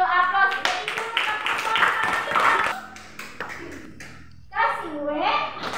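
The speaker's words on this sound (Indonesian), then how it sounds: "kasih dulu aplaus" Children in a classroom clap their hands together in a burst of applause, mixed with their own lively voices calling out close by.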